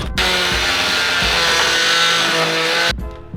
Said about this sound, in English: so I'm just going to undo the screws now.